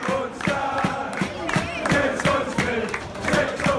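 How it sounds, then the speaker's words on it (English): A large video game football crowd roars and chants in rhythmic bursts, loud and continuous, with rising shouts repeating every half second or so. "And the crowd go wild. Just listen."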